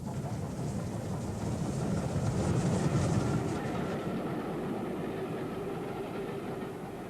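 A train rolling past in 1967 on the Southern Region, the Bridport Belle hauled by two Bulleid Pacific steam locomotives, a continuous loud rumble with rhythmic clickety-clack of wheels and no voices.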